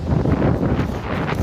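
Steady wind blows across an open beach, buffeting the microphone with a continuous low rumble and rustle that stays loud for the whole moment.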